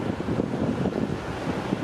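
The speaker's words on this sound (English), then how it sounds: "now we're on the beach chilling, hearing the waves" Ocean waves wash onto a beach in Fort Lauderdale: a low, continuous surf rumble blended with buffeting wind noise on the microphone, with no voices.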